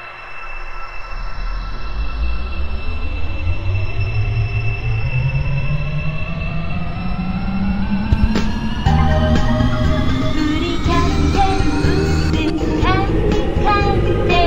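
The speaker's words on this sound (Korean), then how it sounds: "열차가 곧 출발합니다." A Daegu Metro Line 4 train pulls away in the Open BVE train simulator. A loud, steady motor whine rises in pitch as it accelerates, wheels and rail noise build beneath it, and brief squeals and clatter come through near the end.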